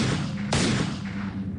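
A gunshot cracks sharply through a dense, noisy background, one loud burst standing out amid rumbling, boomy reverberation.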